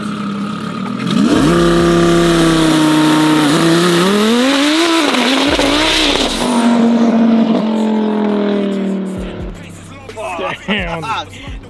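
A Lamborghini with a large chassis-mounted wing revs hard; the engine note climbs and falls in loud sweeps, with crackling exhaust pops as it eases off and voices murmuring nearby.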